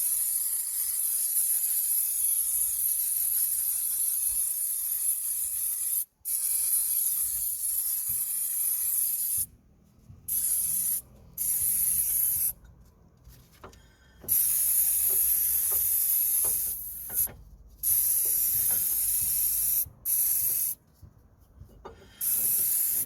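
Brake cleaner hisses from a spray can onto the front brake disc of a Toyota Yaris in bursts of several seconds, loud and close, with short pauses and faint handling noises between sprays.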